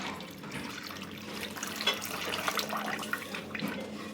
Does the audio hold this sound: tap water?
yes